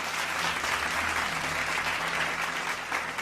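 Sustained applause and cheering from a crowd in a tabletop role-playing game session of Call of Cthulhu, steady and fairly even, with clapping filling the whole stretch.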